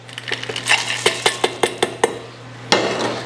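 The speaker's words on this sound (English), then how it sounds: "And just lightly mix those in, stir them in to the cookie mix." Chocolate chunks being stirred into cookie dough in a bowl, giving a run of about a dozen sharp, close clinks and knocks of a utensil against the bowl in a steady rhythm, with no talking.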